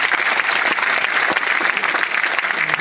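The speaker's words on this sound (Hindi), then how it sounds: "आप जोरदार ताली बजा करके स्वागत करें।" Dense, steady applause from a large audience welcoming guests at a Constitution Day celebration ceremony in Delhi, loud and continuous with no voices rising above it.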